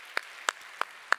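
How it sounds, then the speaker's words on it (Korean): In a young adults' church worship service, a few quiet hand claps sound one by one at a slow, even pace, four in all, fairly faint. "우리 하나님께 감사와 영광의 박수 드리도록 하겠습니다"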